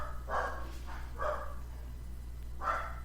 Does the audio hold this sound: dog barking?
yes